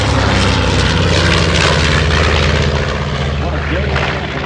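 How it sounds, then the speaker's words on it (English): Loud, steady drone of two B-25 Mitchell Pacific bomber piston engines flying overhead in the landing pattern at an airshow, a dense roar that fills the whole clip with a voice talking beneath it. "As our two Pacific bombers make their way on into the pattern"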